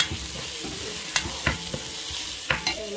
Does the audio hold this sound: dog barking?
no